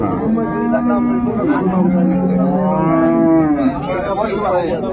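At a livestock market, a dairy cow gives a long, loud, drawn-out moo. Market chatter and a crowd continue in the background.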